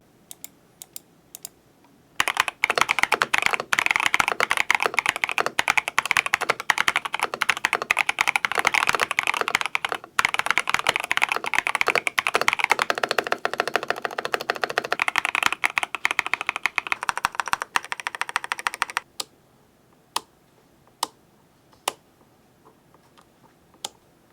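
Fast, continuous clacking of a mechanical keyboard being typed on up close, dense bursts of keystrokes, then a few isolated key clicks at the end.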